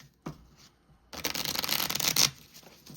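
A deck of oracle cards is shuffled close by: a quick riffle, a pause, then a longer rustling burst that ends abruptly, with no talk.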